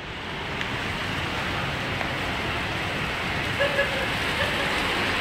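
Heavy tropical rain pours down in Panjim, Goa, in a dense, steady hiss that fills the whole scene without pause.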